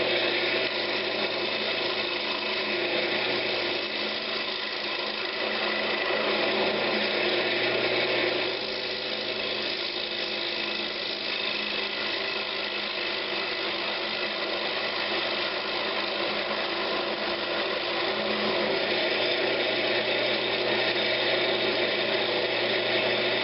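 A wood lathe spins an old pine cabinet knob while its bottom is faced off, giving a steady whirring hum with a continuous scraping cut layered over it, close and unbroken, with no talking.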